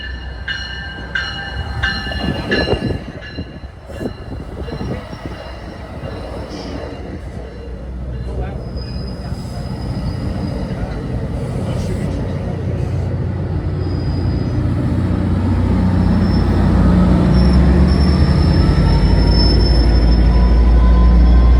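A Mascouche Line commuter train of Bombardier MultiLevel cars rolls past close by, wheels squealing and clattering at first, then a deepening, swelling rumble as it gathers speed, while someone talks over it early on.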